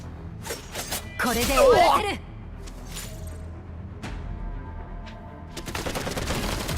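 Fierce gunfire from the game Girls' Frontline 2: bursts of rapid shots crackle in short volleys, with a loud rattling flurry in the middle and more clustered shots near the end.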